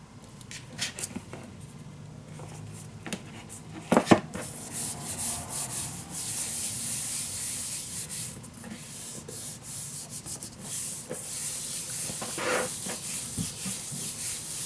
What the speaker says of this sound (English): Burnish it down, of course.